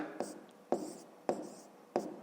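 A pen writes an answer by hand in four quick, soft strokes, each starting with a small tap, close and quiet against a still room.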